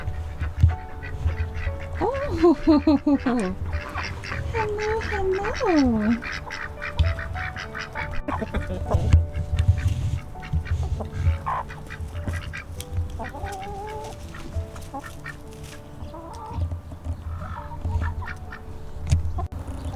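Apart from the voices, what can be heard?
ducks quacking in a backyard coop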